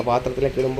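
Jackfruit chips frying in hot oil give off a close, continuous sizzle and crackle while a person talks over it.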